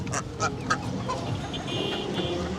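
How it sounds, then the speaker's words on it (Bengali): Several short, nasal quacks from a group of domestic ducks sound close by as they are let out after feeding, over a noisy outdoor background. "হাঁসগুলোকে খাবার দিছে ওরা খেয়ে ফেলছে এখন ওদেরকে ছেড়ে দেয় একটু বাইরে ঘোরাঘুরি করুক"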